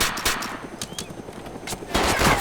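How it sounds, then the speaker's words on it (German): Rapid bursts of gunfire from the survival video game DayZ, with loud, dense automatic shots crackling close by in quick irregular volleys. "er hat auf mich geschossen"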